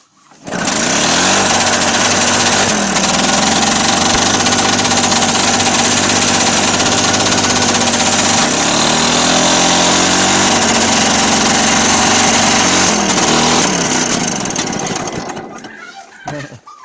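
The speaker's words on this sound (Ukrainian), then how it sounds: "Заводимо трактора." A tractor engine starts and runs steadily and loudly for about fifteen seconds, a rough mechanical drone with some voices faintly underneath, then cuts off.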